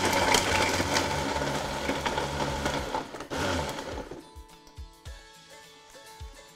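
A blender whirs loudly while blending a breakfast smoothie with oats, a dense churning roar that drops out partway through and gives way to lighter clunks and rattles.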